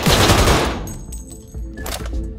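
Rapid automatic gunfire in Cyberpunk 2077 as a gang hideout is shot up, loud close bursts of shots with a short gap before another volley, no voices.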